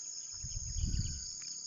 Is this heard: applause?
no